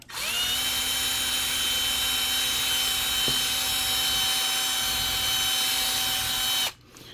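A power drill bores into the plastic of a 1/48 MegaScale Zaku II Gundam model kit, giving a steady, close, high whine that spins up, holds evenly for about six seconds, then cuts off.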